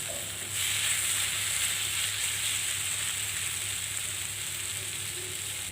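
Tol chana chickpeas roast in a pan with a steady, close hiss and sizzle that holds for several seconds, with no voices.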